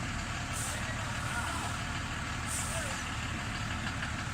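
A Dodge Ram truck towing a load up a hill at a house and pool refurbishment site, its engine a steady continuous low rumble with brief hissing bursts, under sparse background voices.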